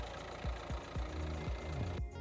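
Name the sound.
car engine idling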